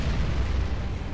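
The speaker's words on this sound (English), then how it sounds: "Prepare to fire the Vanguard cannon." A sustained, booming explosion from the Vanguard cannon firing in the space game Sunrider, a dense, roaring wall of noise heavy in the low end that fills the whole moment without pause or speech.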